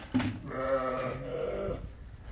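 Young ewe lambs bleat close by at a sheep sale near Kara-Balta, one drawn-out wavering bleat following a short sharp call, with soft background noise.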